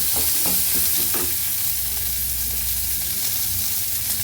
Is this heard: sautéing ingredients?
yes